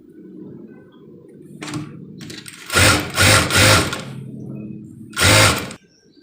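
A sewing machine stitching lining onto a sleeve runs in several short, loud whirring bursts, close by, after a quieter stretch of handling sounds.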